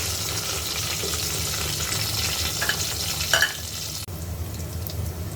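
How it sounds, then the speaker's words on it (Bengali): Onions fry with garam masala for a red potato chicken curry, a dense, steady sizzle close by with stirring strokes and a brief louder scrape near the end, and no speech. "গরম মশলা দেওয়ার পর আমি আরেকটু ভেজে নিব"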